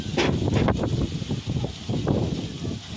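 Strong wind gusting over a terrace in the cold aftermath of a flood, a steady broadband roar that swells and dips in rough pulses for the whole stretch, close to the microphone with buffeting noise.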